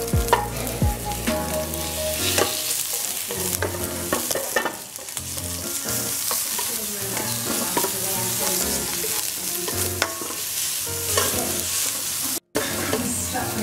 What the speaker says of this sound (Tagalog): inuuna ko bawang. Kasunod yung sibuyas. Hintayin natin na matusta ng konti.